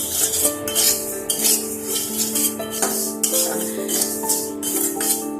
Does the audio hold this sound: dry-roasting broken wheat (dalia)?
yes